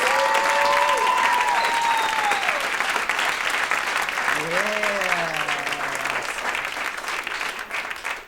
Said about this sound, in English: So I want you guys to give them another round of applause.